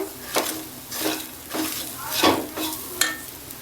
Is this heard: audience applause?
no